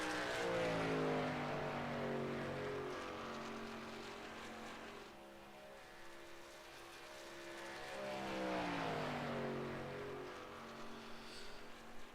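A race car on a timed qualifying lap at Talladega roars past with a strong, rising and falling engine note that sweeps up and down in pitch, loud at the start, then fading and swelling again as it circles, with no talk.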